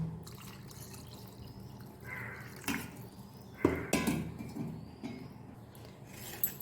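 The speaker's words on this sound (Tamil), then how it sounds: "இப்போ வந்து இதில் நம்ம காய்ச்சி ஆற வச்சுருந்த பால் சேர்த்துக்கலாம்" Boiled, cooled milk poured onto nungu (ice apple) in a mixer jar, a few faint splashes and gurgles with a couple of jar clinks, close and quiet.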